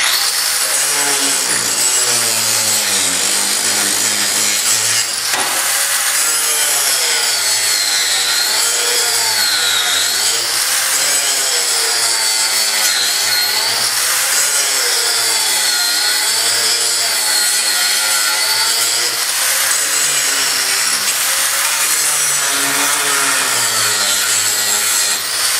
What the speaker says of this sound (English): we'll come in with our grinder, being careful not to damage the actual dash.